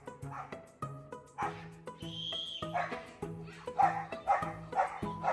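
A dog barks repeatedly in short, sharp bursts close by while trying to catch a hose during car washing, with steady tonal sound continuing in the background.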